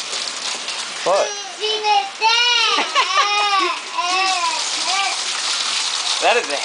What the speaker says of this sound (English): That is hail, folks.